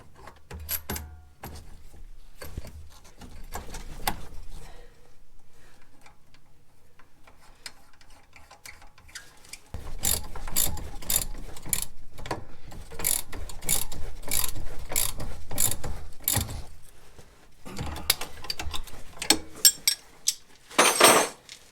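A ratchet tightens lug nuts on a tracked machine in snowy maple woods, sounding as bursts of rapid metallic clicking close by, with quieter gaps between the runs and a louder clatter near the end.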